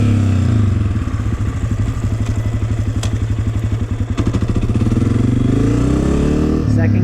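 Dirt bike engine running loud and close through a slow, drawn-out gear shift: a steady throbbing idle-like drone that dips and wavers in the middle, then rises as the throttle comes back on.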